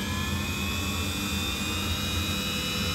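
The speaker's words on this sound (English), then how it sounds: "it's the little fret routing bits for a Dremel" Dremel rotary tool fitted with a fret slot routing bit, working on a 1953 Gibson L-50 guitar under restoration, emitting a continuous loud high-pitched whine with a steady tone and a dense motor roar beneath, no talk.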